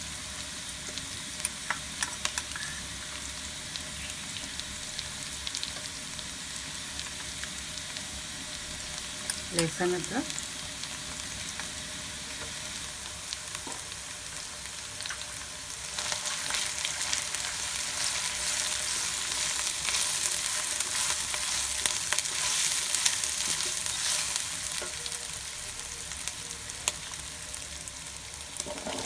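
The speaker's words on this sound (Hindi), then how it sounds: "एक से 2 मिनट तक हमने पत्तों वाली प्याज को हल्का सा फ्राई कर लिया है" Chopped spring onions fry in a pan for a cauliflower curry, giving a steady close sizzle with occasional stirring scrapes that grows louder and brighter partway through, while a voice speaks briefly over it.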